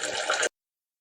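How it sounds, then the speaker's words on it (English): Cold tap water gushes into a pot of drained, just-tender potatoes, making a bright, hissing splash. The pour is close and steady, then stops abruptly after half a second, leaving silence. "We're just going to fill them up with some cold water and let them sit."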